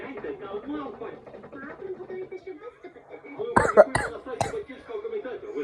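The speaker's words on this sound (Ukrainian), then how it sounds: "батя кашляє, що чорт" A voice talks throughout, then a few sharp coughs burst out near the end, loud and close.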